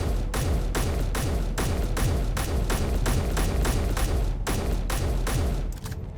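Gunfire in the Space Engineers video game comes as a rapid, loud, evenly spaced burst of heavy shots that runs for several seconds and then stops abruptly.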